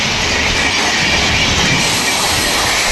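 A Howrah–Bhubaneswar Shatabdi Express rushes through a village station with a loud, steady roar and rattling carriages, wheels clattering over the rails for the whole stretch with no pause.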